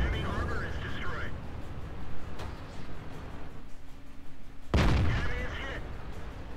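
Tank cannon fire and shell hits in a tank combat video game, heavy booming blasts, one early and a bigger one near the end, with rumbling between them and a voice talking over it.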